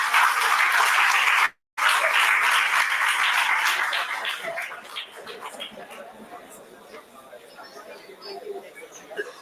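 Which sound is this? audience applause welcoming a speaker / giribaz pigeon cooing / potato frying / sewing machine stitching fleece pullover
audience applause welcoming a speaker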